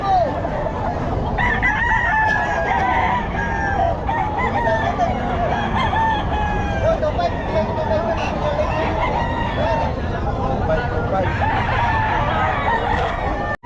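A stag rooster crows repeatedly at the Bocaue pet market, loud and close, over a busy background of clucking fowl and murmuring people.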